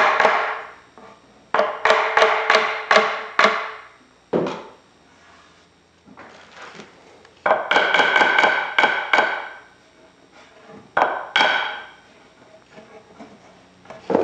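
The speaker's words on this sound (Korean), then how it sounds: "망치를 이용해서" A hammer taps wooden parts of a microwave stand into place, firing off rapid bursts of sharp, close knocks in quick clusters with short pauses between, loud and alone without talk.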